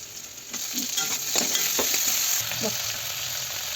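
Chopped tomato hits hot oil with reddened onion and carrot, giving a steady close sizzle with a few soft stirring scrapes.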